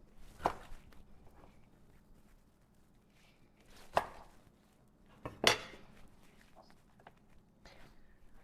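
Three sharp knife chops through green beans on a cutting board, widely spaced, with quieter handling noises in between.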